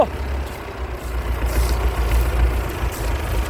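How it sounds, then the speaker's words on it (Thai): An old tractor with a Perkins engine runs a hay baler, giving a steady, low diesel rumble at a constant idle-like pace, close and continuous with no talk. "นี่ชุดอัดฟางนะครับ"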